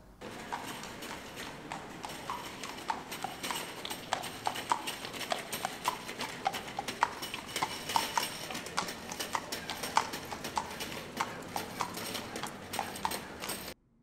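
A horse pulling a cart through a city centre, hooves clip-clopping in a steady rhythm on hard ground for the whole stretch, with a busy street murmur behind.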